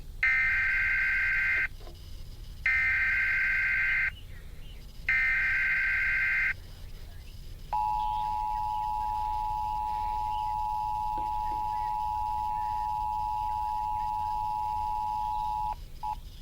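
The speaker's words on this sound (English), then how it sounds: "This is the emergency alert system." Emergency alert system broadcast tones: three loud two-tone bursts in a regular rhythm, then a long steady single attention tone held for about eight seconds, heard alone.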